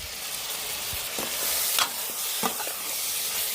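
Chicken pieces coated with turmeric, salt and masala are stirred in a hot pan, giving a steady sizzle with scraping stirs and a few sharper clinks of the utensil against the pan, close and without speech.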